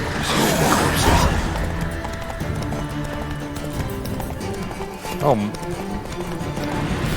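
Roach the horse in The Witcher 3: Wild Hunt gallops with steady hoofbeats under game music, with one short neigh partway through, and a voice speaks briefly.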